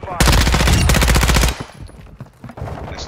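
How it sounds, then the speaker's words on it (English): Loud, close bursts of automatic gunfire in a military video game, two sustained rapid volleys back to back, then quieter scattered shots and background game sounds. "You are taking effective fire."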